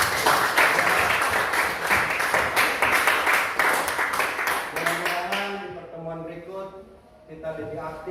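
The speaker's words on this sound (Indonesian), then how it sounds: "kita beri aplaus meriah" A classroom full of students claps enthusiastically in a steady, dense burst of applause that fades out after several seconds, giving way to a voice talking alone.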